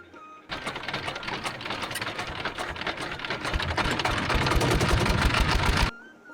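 A motor boat engine runs steadily on a river during the rainy season, a dense rapid mechanical chatter that grows gradually louder and closer before stopping suddenly.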